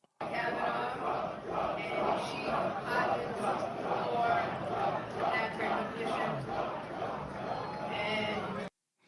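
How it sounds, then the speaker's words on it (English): A crowd of firefighters boos and jeers someone speaking at a fire department event, with sustained loud vocal disapproval mixed with shouts, and her amplified voice under the noise. "Here's the clip of them booing her"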